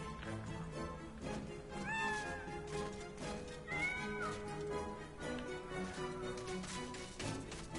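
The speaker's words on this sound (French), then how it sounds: "je ne fais absolument rien aux chats, donc les chats sont là pour me perturber" Cats meow and yowl in the video game MediEvil, several drawn-out wavering cries rising over a dense, steady game soundtrack.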